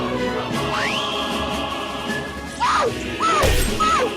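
A bounty poster shatters in a live-action One Piece scene: a sharp crash bursts out amid sweeping whooshes and bright swooping effects.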